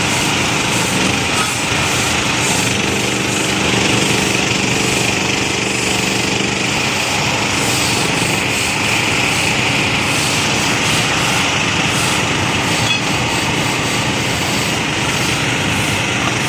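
A loud pressurized washer flushes a painted rubber-coated floor, a steady engine-driven roar with dense spray hiss that never lets up, close and continuous throughout.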